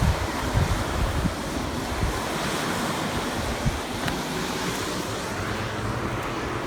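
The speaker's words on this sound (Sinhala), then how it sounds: "බලන්න යාළුවනේ ලස්සන දිය පාරක් තියෙනවා." A flowing stream of water makes a steady, dense rushing wash at close range, constant throughout, with no voices.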